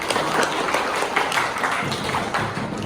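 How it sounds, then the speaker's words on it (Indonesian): A group of participants claps together in a sustained burst of applause with scattered individual claps, fairly close and lively, without other sounds standing out. "Oke, bagus, tepuk tangan semua."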